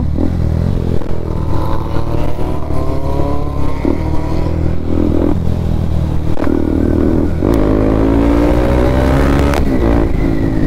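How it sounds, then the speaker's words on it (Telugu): A sport motorcycle with an Akrapovic slip-on exhaust idles loudly and revs repeatedly, the pitch climbing and dropping in several sharp throttle blips, close by. "బైక్ అక్రోపోవిక్ స్లిప్ ఆన్ ఉంది, క్రేజీ వస్తుంది సౌండ్."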